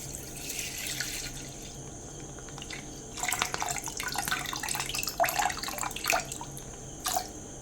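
Milk poured from a container into a saucepan for Kerala-style pineapple payasam, a clear liquid pouring and splashing that starts after a quiet stretch of about three seconds and runs in uneven bursts, fairly close and with no talk.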